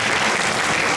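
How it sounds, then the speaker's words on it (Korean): Students at a school admissions briefing in a hall applauding a teacher, a brief dense wash of many hands clapping together, loud and continuous. "우리 수고해 주신 사만구장 선생님께 다시 한번 박수합니다."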